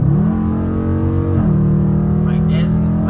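Straight-piped Dodge Challenger R/T Hemi V8 exhaust rumbles loudly up close, pitch stepping up and down as the engine is blipped, with a voice briefly over it near the end.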